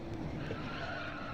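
AI-controlled cars braking and skidding in a racing video game: a steady tire squeal and engine drone held at an even, moderate level for a brief stretch.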